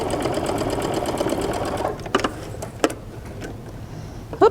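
A sewing machine runs a regular stitch while binding minky cuddle fabric onto a quilt, a loud steady mechanical whir for about two seconds, then stops, followed by a few sharp clicks and taps.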